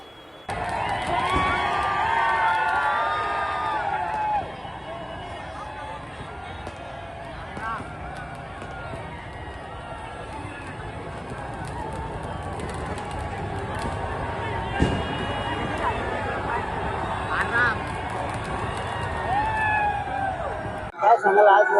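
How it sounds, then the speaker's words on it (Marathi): Children cheer and shout together outdoors in Pune, celebrating India's Champions Trophy win over New Zealand, a steady crowd roar of excited voices with occasional bird-like squeals, loud and sustained throughout. "इंडिया विन असा जल्लोष साजरा करत लहान चिमुकल्यांनी आनंद व्यक्त केला आहे"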